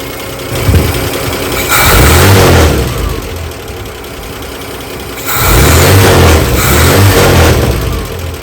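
A Chevy 235 inline-six runs after a valve adjustment, its exhaust rumbling loudly at idle and rising in two revs, each held for a couple of seconds before settling back.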